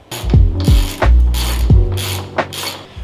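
A hand ratchet clicks loudly and close while bolting a top mount back onto a 1995 Corrado, several short bursts of rapid pawl clicks separated by brief pauses.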